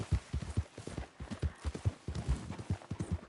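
Horse hooves clip-clop in a steady, close rhythm in the Red Dead Online video game, a run of distinct hollow thuds with a faint voice beneath.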